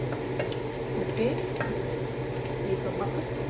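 Tomatoes and other food frying in a pan, a soft continuous sizzle with a few small clinks and stirring ticks, fairly quiet and close.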